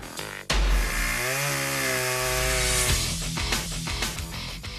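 A chainsaw in an American Psycho film scene starts with a sharp jolt and then revs loudly and steadily, its engine pitch wavering, close and dominant throughout.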